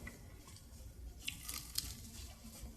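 Quiet close chewing and biting on a sauced chicken wing, soft wet squishes and a few crisp crunchy bites spread irregularly through the clip, with no talking.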